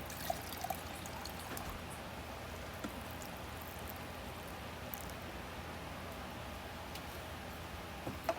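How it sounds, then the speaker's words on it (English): Half a cup of water poured into a cooking pan while making Malaysian ayam masak merah, a steady close trickle and splash running unbroken throughout. "So I'll add like maybe half a cup of water."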